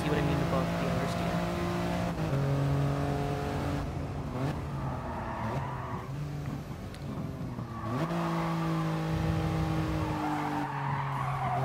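Toyota GR Yaris in Gran Turismo Sport sliding out of a corner, tyres squealing loudly over a droning, shifting engine note that rises and falls as the car accelerates away.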